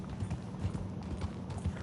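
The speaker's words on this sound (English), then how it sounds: "Oh, that's a beautiful horse over there." Horse hooves clopping in Red Dead Redemption 2, a quick steady run of muffled thuds over a rumbling low background, moderately loud with no clear talking.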